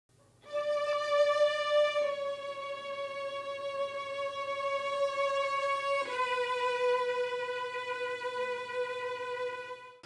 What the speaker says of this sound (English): Here are the near mic'd violins.